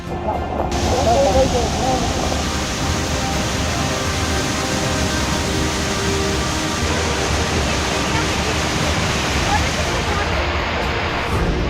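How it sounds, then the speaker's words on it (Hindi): Floodwater after a cloudburst in Shalkhar village, Kinnaur, surging toward the settlement and bus stand, a loud, continuous roaring rush that fills the whole stretch without pause. "किन्नौर के शलखर गांव में बादल फटा तो बस्ती की तरफ सैलाब बह चला।"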